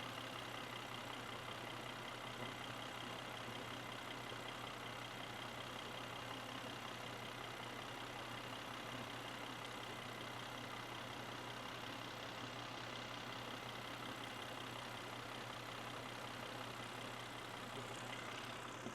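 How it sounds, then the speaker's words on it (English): A Volvo engine idles while running on milk instead of fuel, a steady, even drone with a low hum that holds unchanged and fairly faint for the whole stretch, with no voices. "Alright, Volvo engine running on a milk."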